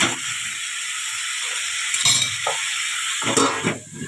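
Sliced cauliflower and potato frying in hot oil in a pan, giving a steady loud sizzle with occasional stirring scrapes; no voices.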